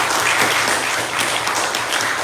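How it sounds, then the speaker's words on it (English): A crowd gives a round of applause at a school fundraising committee launch, a thick, continuous wash of many hands clapping at steady loudness across the whole stretch. "Please, let's give her a round of applause."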